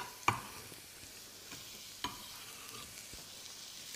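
Onions fry in olive oil in a pan for a steak pie, a soft, faint sizzle with a couple of sharp clicks and light stirring sounds, close with no voices.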